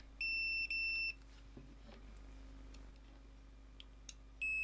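A Kaiweets ST120 multimeter tester checks a replacement fuse for continuity and answers with loud, steady electronic beeps in two quick bursts, then a third beep after a pause, with faint handling clicks between them.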